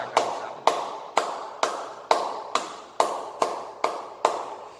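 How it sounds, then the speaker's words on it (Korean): Congregation at a church worship service clapping in a steady unison rhythm, about ten evenly spaced claps, moderately loud and roomy with no talk over them. "우리 하나님께 영광의 박수 올려드리겠습니다"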